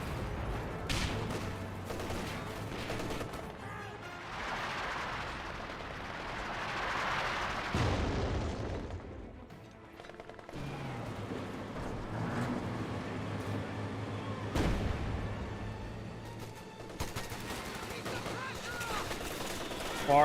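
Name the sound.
artillery and gunfire in Company of Heroes 2 video game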